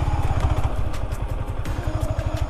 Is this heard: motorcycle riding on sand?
yes